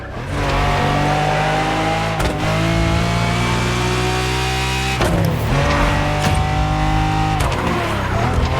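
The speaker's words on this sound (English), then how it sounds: "we're talking about the sensational Lamborghini Diablo" A Lamborghini Diablo races in the video game The Crew Motorfest, its engine loud and close, revving up through the gears with rising pitch and brief drops at each shift, about three shifts in a row.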